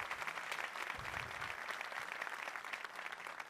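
A studio audience applauds a choir conductor during a music programme, with continuous, moderately quiet clapping that holds steady throughout.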